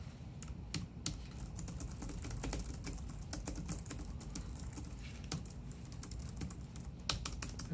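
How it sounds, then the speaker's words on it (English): Steady typing on a Logitech Craft keyboard: soft, quiet key clicks in a quick, uneven rhythm with occasional slightly sharper strokes, close up and with no talk. "This is the Logitech Craft keyboard."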